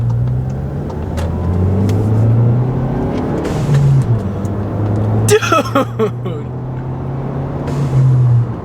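A VW Golf Alltrack engine drones and revs up from inside the cabin with windows up, with a sharp hiss-like blow-off valve burst midway and brief voices mixed in.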